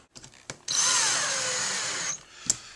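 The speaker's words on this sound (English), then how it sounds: "Some short screws. Be careful not to over-tighten." A power drill whirs close and loud for about a second and a half, driving short screws to fix D-rings onto a black and mahogany wooden picture frame, with a few small taps and clicks before and after.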